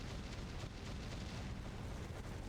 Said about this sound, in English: This explosion will hit you and do 3 damage.